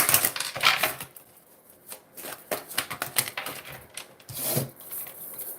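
Tarot and oracle cards are shuffled by hand nearby, a run of papery riffles, slides and soft taps in uneven bursts, with a louder flurry near the start and another near the end.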